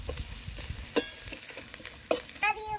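Onion, green chili and crushed garlic frying in mustard oil, a soft continuous sizzle broken by several sharp utensil clicks and scrapes against the pan, no voices.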